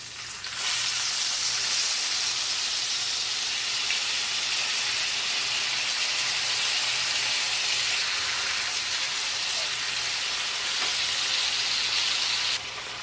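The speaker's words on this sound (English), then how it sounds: "Let it fry on one side for about 3 minutes until it's a deep brown" Flounder fillet frying in a hot pan, a steady, loud sizzle and hiss that runs evenly for over ten seconds with no one talking.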